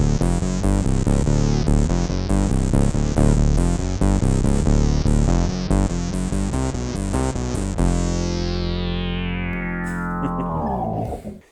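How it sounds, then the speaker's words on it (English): Bass guitar runs through a Digitech bass synth wah pedal, giving a loud, buzzy, filtered synth tone in quick repeated notes, then a long sustained note that sweeps downward and fades out. "Here I'm using a Digitech bass synth wah, and this has got, you know, a load of weird sounds in there."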